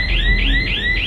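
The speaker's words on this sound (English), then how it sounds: "A motion sensor alarm goes off." A motion sensor alarm goes off in a house hallway, a shrill electronic tone rapidly repeating in short rising sweeps, loud and close with no voices.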